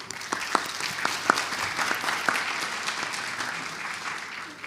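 Applause from a medical audience after a clinical case presentation: a steady, moderately distant wash of clapping, with a few individual claps popping out in the first seconds.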